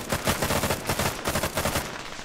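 Gunfire in ArmA 3 rattles off in a fast, rhythmic automatic burst, loud and steady for about two seconds before easing off, with no talk over it.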